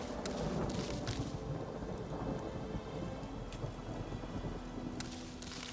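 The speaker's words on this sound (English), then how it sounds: "Looks like a storm's headed this way in the game." Steady rain falls in The Witcher 3 video game, with low thunder rumbling and a few sharp crackles breaking through the storm, continuous and fairly faint with no voices.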